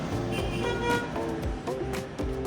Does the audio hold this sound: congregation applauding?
no